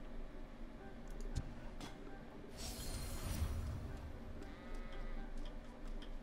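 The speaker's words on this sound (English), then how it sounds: "Sheep." Sheep in the video game Ascent: Infinite Realm bleat a few times at moderate distance over a soft game ambience, with faint ticking effects in the background.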